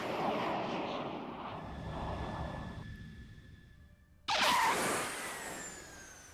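X-15 rocket plane test flight in Buzz Aldrin's Space Program Manager game: a steady roaring engine rumble with whining tones fades, drops out briefly, then a louder, brighter burst of roar cuts in and continues.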